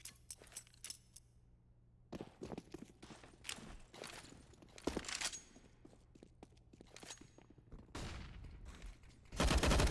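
Counter-Strike gunfire on the Mirage map during a competitive ESEA match, with sharp bursts of shots, rapid volleys and footsteps scattered across the clip, loudest near the end, with no voices.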